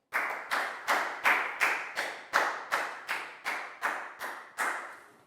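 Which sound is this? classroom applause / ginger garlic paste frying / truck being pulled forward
classroom applause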